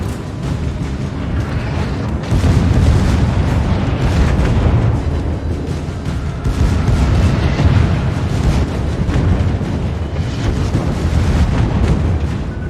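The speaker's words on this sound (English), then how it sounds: "They are definitely going to fire torpedoes at me right now." Torpedoes slam into a warship in World of Warships, a loud, sustained roar of rumbling booms and blasts that surges in heavy waves across the whole stretch, with no voices over it.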